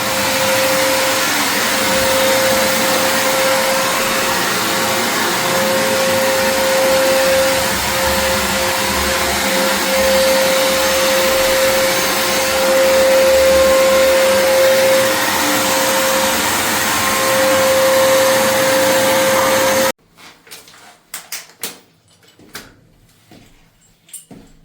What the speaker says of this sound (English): Now they're vacuuming all the dust out of the holes